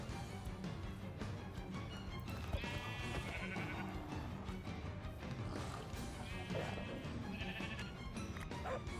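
Sheep in the Minecraft video game bleat twice, a wavering cry near the start and another later, over a busy backdrop of game sounds and music.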